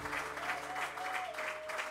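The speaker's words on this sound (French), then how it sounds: "On acclame très fort." A church congregation applauding at a gathering of men and women of God, steady dense clapping under a sustained tone, fairly quiet and even throughout.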